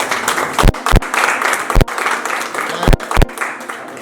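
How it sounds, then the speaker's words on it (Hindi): Loud applause fills a crowd at an award show, a steady wash of clapping broken by a few sharp thumps, with a voice talking over it. "जोरदार तालियां"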